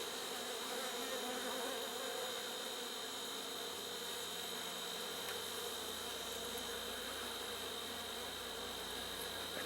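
Honeybees humming steadily around an open hive as a frame is lifted during an inspection five days after requeening, a dense continuous buzz close by with no talk.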